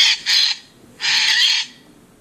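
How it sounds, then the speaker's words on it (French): A bird call played by a Tiptoi interactive book, two short harsh squawks followed by a longer raspy call, fairly loud and close with no talking. "Je vais pointer dessus, je pense qu'il va me faire le cri de l'oiseau."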